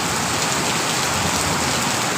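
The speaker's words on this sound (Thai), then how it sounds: "บรรยากาศฝนตกยามค่ำคืนนะครับ" Heavy rain pours steadily at night over a rural Thai farm plot in Maha Sarakham, a dense, continuous hiss and patter of drops on surfaces with no pauses and no voices.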